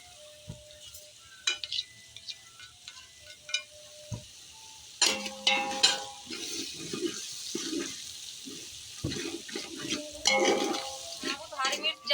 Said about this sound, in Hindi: सारे मसाले हम अच्छी तरह भून लेंगे